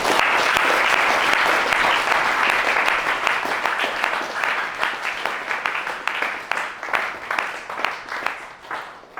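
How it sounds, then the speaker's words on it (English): An audience at a community gathering gives Ethan a round of applause, with full, dense clapping that gradually thins into looser, separate claps toward the end. "maybe just join me in giving Ethan another round of applause"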